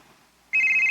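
A mobile phone starts ringing abruptly with a steady, bright electronic tone, loud and close after a brief quiet moment, with no talk over it.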